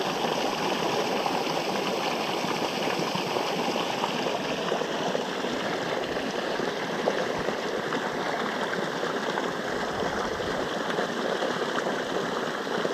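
Steady rush of water pouring from a 20 HP solar-powered motor pump, a continuous close splashing flow with no pauses.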